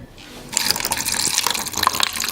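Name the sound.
Kangen water pouring from a tap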